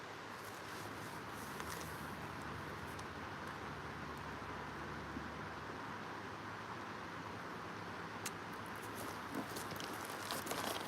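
Steady rain patters softly and continuously, a faint, even hiss with occasional sharper drips, and no voices.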